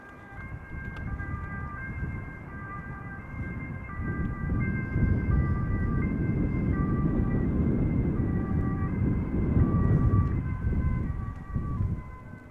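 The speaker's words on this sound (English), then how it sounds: "Also hearing an ambulance." Ambulance siren wailing near Amsterdam Schiphol Airport, a continuous two-tone sweep heard at moderate distance over a low rumble of traffic and airport background, swelling slightly louder mid-way before fading at the end.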